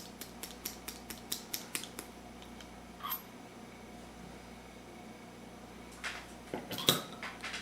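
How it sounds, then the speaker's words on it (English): A hair stacker used for fly tying is tapped in a quick run of light metallic clicks, followed by a pause and a few more scattered taps, quiet and close. "we're going to throw it back in the stacker and get those tips lined up. Just give it a couple taps."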